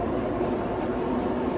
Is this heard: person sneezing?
no